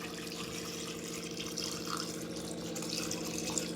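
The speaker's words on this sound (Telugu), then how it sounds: "దీంట్లో ఇప్పుడు ఉడకబెట్టుకోవడానికి వాటర్ తీసుకుందాము" Tap water flowing into a pot meant for boiling washed potatoes, a steady, fairly quiet gurgling stream with a faint hum underneath, no talking.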